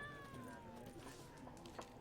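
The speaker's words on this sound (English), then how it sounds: "How do I pet this cat?" Cat meowing in The Witcher 3 video game, one drawn-out falling meow heard faintly over a steady ambient game background.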